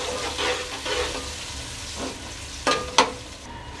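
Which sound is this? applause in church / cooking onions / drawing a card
cooking onions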